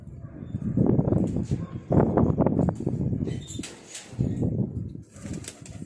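A Kasuri pigeon, a female, flaps its wings in short bursts among low, throaty coos, close by and moderately loud, with brief pauses between the flurries.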